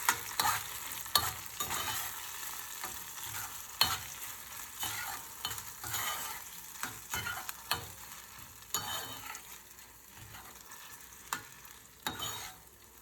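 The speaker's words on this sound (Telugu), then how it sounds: "ఇప్పుడు పచ్చడిని తాలింపులో బాగా మిక్స్ చేసుకోవాలి ఫ్రెండ్స్." Repeated scraping and clinking of a spoon stirring mint chutney into tempering in a pan, with a soft sizzle underneath, irregular strokes throughout.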